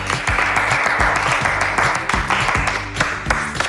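A group claps enthusiastically to welcome Jimin, dense applause running throughout over regular low thumping beats, with a few voices mixed in.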